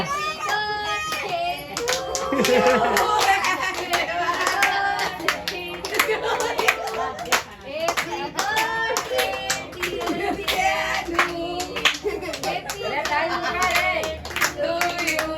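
Hands clap in quick repeated bursts at a child's birthday celebration while children and adults chatter and call out nearby, lively and close.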